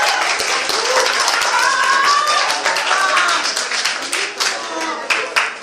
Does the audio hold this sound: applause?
yes